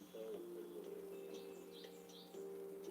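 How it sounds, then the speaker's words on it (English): A bird calls outdoors in thin, faint chirps heard behind a steady low hum, with a sustained tone running beneath much of the sound. "Oh, there's that bird going at it again."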